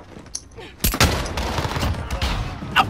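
Shotgun and other gunfire in the Call of Duty Modern Warfare video game during a gunfight tournament match, with sharp loud blasts starting partway through and continuing as a dense burst of shooting.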